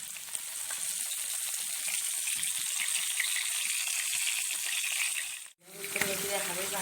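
Fish frying in oil in a home kitchen, a loud continuous crackling sizzle held close for several seconds, then a brief dip and a softer bubbling with faint voice underneath.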